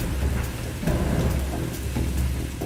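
Dense, steady heavy rain pouring nearby with a constant wash of drops and faint low rumbles.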